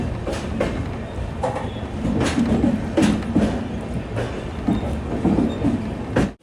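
Platform ambience at KSR Bengaluru City Junction railway station, a continuous low rumble of trains and rolling stock with rhythmic clatter and brief metallic squeals, fairly loud and close, no voices.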